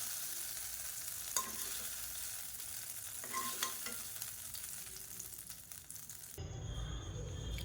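Hot tempering oil with curry leaves sizzles and crackles as it is stirred for an onion chutney, a close, steady frying hiss with scattered pops, then a sudden burst of louder sizzling as the tadka hits the chutney.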